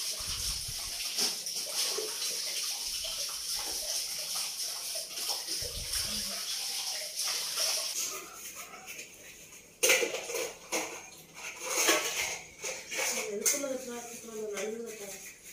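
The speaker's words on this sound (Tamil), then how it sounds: "நான் பாத்திரம் கழுவுறேன்" Running tap water and clinking dishes being washed, with splashes and clatter growing busier toward the end while a person talks nearby.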